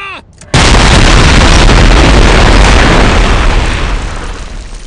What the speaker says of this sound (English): Pass auf, Explosion!